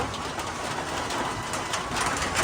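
Pigeons coo softly under heavy rain on a rooftop, their calls half-buried in a dense, steady roar of falling water.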